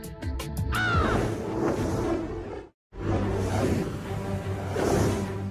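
Crows caw in a series of harsh calls over outdoor ambience, with a few quick clipped caws first and then a fuller, louder stretch broken by a brief silence.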